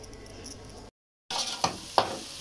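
Onions frying in a pan, a close steady sizzle that breaks off briefly and then resumes with several sharp scraping stirs against the pan.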